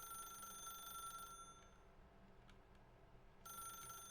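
A telephone in The Stanley Parable rings in two bright electronic bursts, a long ring followed by a pause and then another ring, over a faint low room hum.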